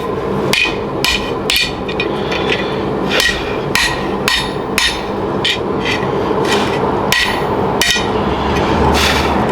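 A hammer drives a chisel into wood to carve a spatula, giving loud, close, repeated thwacks at an uneven, steady pace, roughly a dozen sharp strikes over the stretch.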